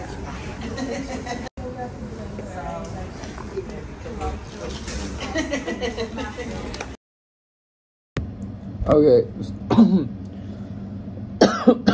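Repeated coughing and throat clearing from someone with a hoarse voice, mixed with talk and background chatter, broken by a brief silence before several sharper coughs near the end.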